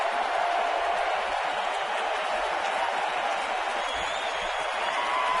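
A standing-room-only baseball crowd at a 2010 Twins playoff game roars continuously, a dense, loud, unbroken wash of cheering and applause filling the stadium.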